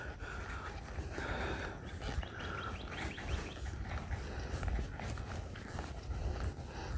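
A two-year-old horse walking while ridden off the halter near cattle outdoors, soft irregular hoof thuds on the ground mixed with birdsong and faint ambient noise, quiet and continuous.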